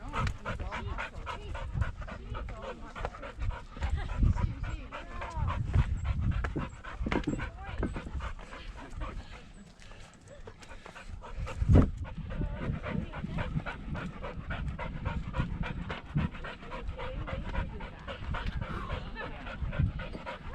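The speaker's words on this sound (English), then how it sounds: "look at the doggy" Dog panting on a hiking trail, fast rhythmic breaths close to the microphone running nearly the whole time, with a brief pause midway, while people talk nearby.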